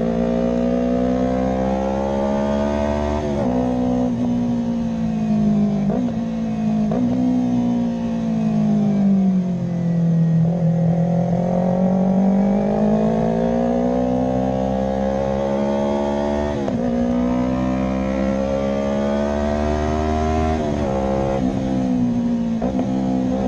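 A motorcycle engine on a race track revs and rises and falls in pitch as it accelerates and rev-matches through downshifts, loud and close throughout with no talking.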